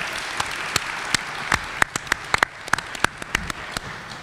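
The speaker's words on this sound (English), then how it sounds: "I think they all deserve a round of applause" Scattered applause at a debate event, a light diffuse patter of hands with several louder individual claps standing out, fairly sparse and moderately distant.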